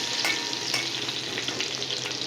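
Garlic frying in hot oil with cumin and mustard seeds for an okra stir-fry, a constant close crackling sizzle with brief spits and pops, ending in a sharper clink, with no one speaking.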